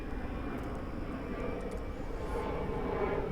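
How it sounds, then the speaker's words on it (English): Airplane passing overhead above a backyard vegetable garden, a steady broad engine roar that fills the background at moderate distance, with no talk. "Sorry for the plane"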